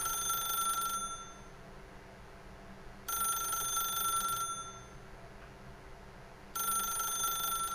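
A telephone rings in The Stanley Parable, three loud bursts of ringing with pauses of about two seconds between them, heard alone over a low steady background.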